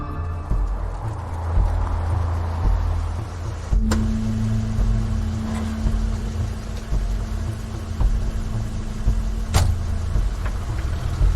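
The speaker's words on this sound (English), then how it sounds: "That's Crane's car." Car sound in the video game The Wolf Among Us: a steady low engine rumble runs throughout, with a sustained mid-pitched whine entering partway and holding, plus a couple of sharp clicks, fairly loud and without talk.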